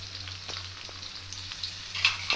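Ginger-garlic paste sautés in hot oil in a pan for a potato masala, giving a steady close sizzle with a few brief stirring scrapes near the end, with no voices.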